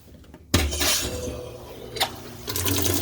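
Water suddenly bursts from a tap and keeps running with a steady splashing rush, with a few clunks and gurgles in the plumbing over three seconds.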